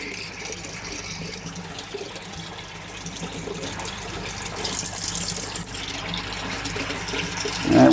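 Water running steadily into a koi tank during a water change, a constant close splashing gush that swells slightly toward the end.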